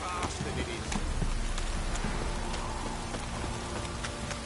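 Heavy rain pours down in a steady, dense hiss with scattered sharper drops striking a surface, holding loud and even throughout, with some faint voice-like sound mixed in underneath.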